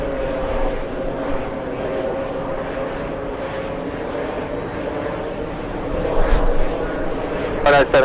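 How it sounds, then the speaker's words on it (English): Airliner coming in to land in a strong crosswind at JFK airport, a steady broad engine roar held at an even level throughout, swelling slightly toward the end, with voices talking beneath it. "I kind of want to go ahead and take a look at the crosswind arrival right now"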